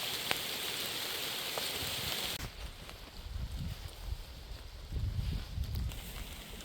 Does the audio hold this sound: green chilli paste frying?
no